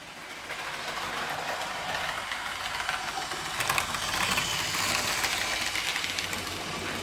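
A Lima model Class 60 locomotive runs past on a model railway, giving a continuous rough, buzzing motor rumble with faint track clatter that swells slightly midway.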